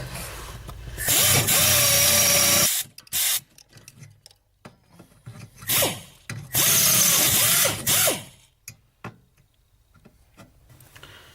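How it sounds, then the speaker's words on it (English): A power drill grinds through spot welds on a 2005 Jeep Grand Cherokee WK in two long loud bursts separated by a pause, with short clicks and scraping between them, close by. "Drill the welds out."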